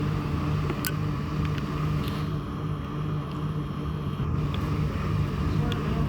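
Ferry crossing the Daintree River, a steady low engine drone with constant broadband rumble and wind noise, continuous throughout at a moderate level.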